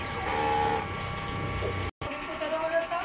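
A DTF printer running a head clean, a continuous mechanical whir and hum with tonal pump or motor drone, briefly cutting out before resuming with shifting tones, close by, with a voice faintly present.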